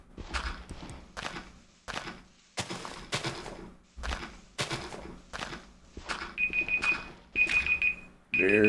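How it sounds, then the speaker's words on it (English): A kitchen timer goes off with repeated high electronic beeps late in the stretch, sounding over steady rhythmic chopping thuds of a knife on a board. "There goes the timer."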